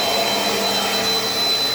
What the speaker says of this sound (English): last video someone said keep the camera on the vacuum, so we'll do that